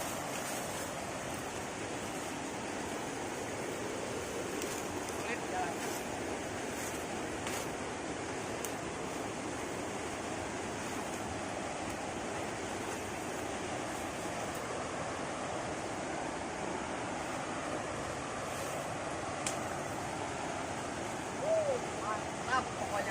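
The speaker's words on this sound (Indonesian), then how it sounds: "ini dia Sungai Cibuni yang berada di Cianjur Selatan" Steady broadband rush of the Cibuni River flowing in South Cianjur, continuous and unvarying throughout, a moderate wash of water noise with faint ambient sounds.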